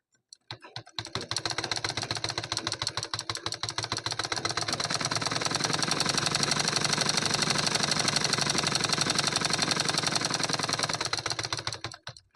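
A sewing machine stitches the lining of a cotton blouse, a fast rapid-fire mechanical chatter that starts up, runs steadily and close for about ten seconds, then slows and stops.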